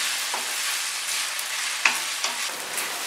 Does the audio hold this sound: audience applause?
no